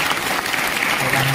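A crowd at a rural folk music gathering (lok dayro) held at a school in Paddhari claps to welcome the singer Sagarbhai; continuous, even applause runs throughout, loud and close.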